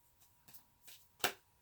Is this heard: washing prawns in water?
no